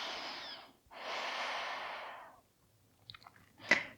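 Slow, deep breaths during a yoga stretch: a long airy exhale, then a fuller inhale lasting over a second, followed by quieter soft sniffs and a short sharp breath at the end, close and alone.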